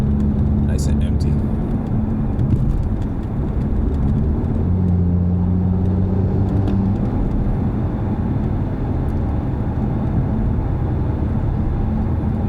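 A catless stage 2 BMW 440i rumbles low and steady on a morning drive, with engine drone and exhaust tones shifting under someone talking throughout.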